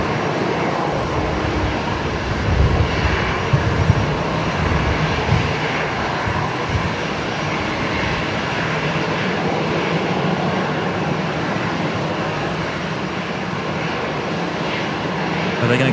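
An aircraft takes off at Brisbane Airport, its engines a loud, continuous broadband roar that holds steady throughout with no talk.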